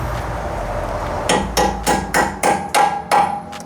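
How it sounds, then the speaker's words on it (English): Hammer blows on a bolt being forced into the bottom of a coilover strut during an air-ride-to-coilover swap, about eight sharp metallic strikes in steady rhythm after a quiet start. "a little bit of hammer persuasion should help us out right nice"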